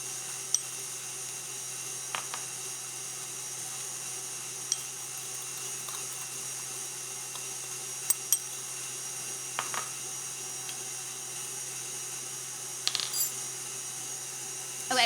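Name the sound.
electric mixer whipping egg whites with sugar for chocolate cloud cake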